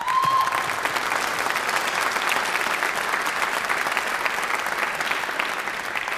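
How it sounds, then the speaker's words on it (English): Sustained audience applause fills a middle school spring band concert, steady and even clapping from a large crowd continuing for several seconds without letup. "if we could give him a round of applause"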